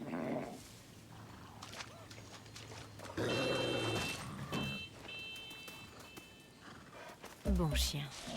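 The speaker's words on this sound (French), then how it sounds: "Ah, pas mal le cheval bugué." In Far Cry 6, a glitched horse whinnies and its hooves clop amid game noise, with a dog, electronic beeps and a voice speaking over the sounds.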